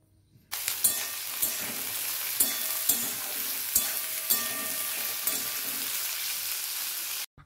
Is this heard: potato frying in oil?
yes